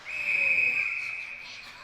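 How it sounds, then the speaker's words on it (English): A referee's whistle at a varsity ice hockey game sounds in one sustained, shrill blast lasting over a second, clear and fairly close, with faint rink noise behind it. "Both refs blow the whistle."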